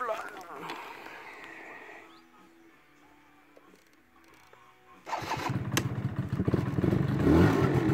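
A Yamaha BW's 88 scooter engine cranks and catches, then settles into a loud, close, rattling idle after a quieter stretch of clatter, with someone talking nearby at the start.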